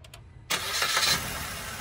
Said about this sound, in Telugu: సింగిల్ సెల్ఫ్లో అయితే వెహికల్ స్టార్ట్ అవుతుంది